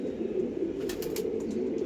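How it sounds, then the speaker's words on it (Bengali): Domestic pigeons coo softly and continuously at close range, a low murmuring drone with a few brief sharper rustles or wing sounds breaking through. "এই একজোড়া পায়রা দুজোড়া পায়রা যাবে"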